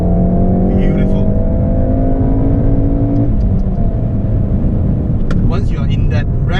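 Volkswagen Golf R Coupe engine revving hard under acceleration, a loud continuous drone with harmonics climbing in pitch, then a shift and renewed build, with road and wind noise throughout and a person talking briefly near the end.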